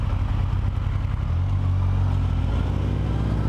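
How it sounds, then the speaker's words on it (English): A motorcycle engine drones steadily on a ride through local roads in Sweden, a deep, mellow low rumble that holds close and constant without talk. "Nice sound from that bike."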